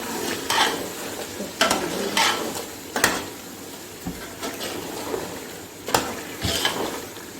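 Green chillies frying and stirred into pulao masala for chicken chana pulao, steady sizzling with repeated spoon scrapes and knocks against the pot, close and moderately loud, no talking.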